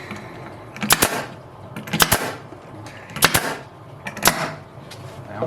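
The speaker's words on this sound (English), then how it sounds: "Misfired again." A staple gun misfires repeatedly while queen mating boxes are being built, giving four sharp, loud clacks about a second apart, close to the microphone with faint background noise between them.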